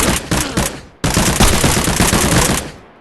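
Loud bursts of rapid gunfire, likely from a video game, several sharp volleys in quick succession with a brief pause, close and dominant, no speech over it.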